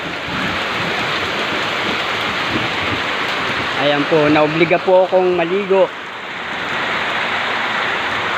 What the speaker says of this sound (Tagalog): Biglang buhos ng ulan po ngayong hapon.